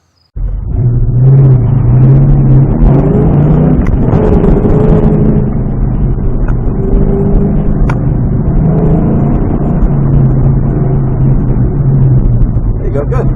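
A Ford Mustang's engine roars loudly and steadily through an autocross run, its droning note rising and dipping with throttle changes and never letting up.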